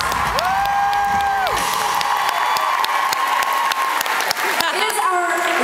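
Concert audience at the Royal Oak Theatre applauding and cheering steadily throughout, a loud dense crowd roar with whoops, while a sustained tone sounds from the stage.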